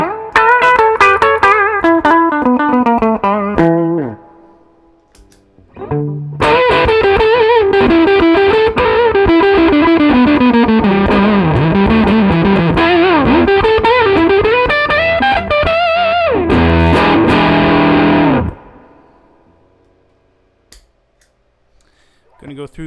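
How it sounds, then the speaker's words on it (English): Electric guitar on the bridge pickup played through The Fuzz pedal with the bias backed off, producing a long, loud, sputtering glitchy fuzz tone with gated breakups, a short gap, then another sustained, unstable fuzzed passage that cuts off. "Going to go through some of the glitchy fuzz tones, so I'm just going to back off on the bias knob."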